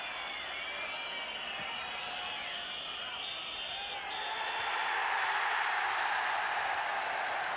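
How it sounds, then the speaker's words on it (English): Stadium crowd at a Wales versus England football match in 1984 swells into cheering and applause, rising louder midway and spreading broad and distant, with a commentator's voice faint beneath it. "a great deal of applause greets a Welsh victory"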